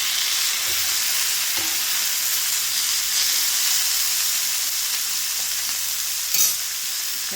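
Chillies, curry leaves and tomato sautéing in a pan, giving a continuous bright sizzle and hiss, with occasional soft stirring scrapes and one brief louder clatter near the end.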